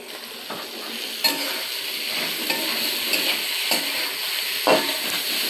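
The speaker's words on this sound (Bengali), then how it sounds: "রুই মাছ বসিয়ে দেবো কড়াইতে দিলে নাড়তে চাড়তে সুবিধা হবে।" Rohu fish fries in a wok with a steady, close sizzle and hiss, while a spatula scrapes and stirs it in repeated short strokes.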